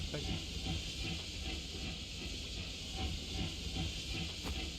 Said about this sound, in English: We're gonna have to fight the steam engine.